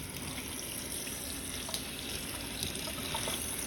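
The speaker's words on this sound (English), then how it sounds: "now let's see what happens when we run water" Water runs from a tap in a steady, quiet, hissing stream that continues unbroken, with no voices.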